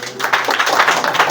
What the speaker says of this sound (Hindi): अब देखो ए भैया इस बिटिया के लिए एक बार जोरदार ताली बजाओ